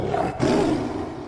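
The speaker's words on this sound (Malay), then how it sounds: "Itu bunyi pak belang, Amni." A Malayan tiger gives a deep, rumbling roar, loud and close, lasting about a second.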